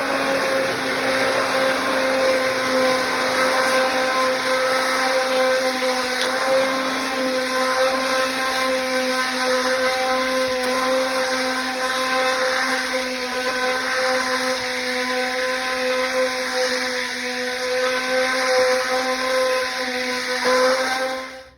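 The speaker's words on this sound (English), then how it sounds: "continue mixing by using an immersion blender until it is the thickness of pudding" An immersion blender whirs continuously at a steady high pitch, its motor whine unbroken and close.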